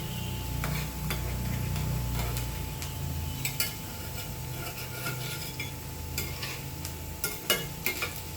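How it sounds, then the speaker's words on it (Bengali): Onion fritters (piyaju) frying in hot oil give a steady low sizzle, joined midway by sharp clinks and scrapes of a utensil against the pan, close and fairly quiet with no voices. "এভাবে 4 মিনিট এপাশ ওপাশ করে ভেজে নিচ্ছি।"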